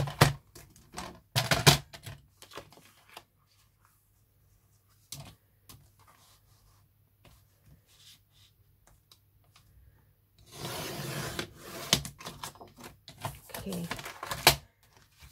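Card stock being trimmed for an easel friendship card, with short bursts of cutting and rubbing at the start and a longer scraping stretch near the end, separated by quiet gaps.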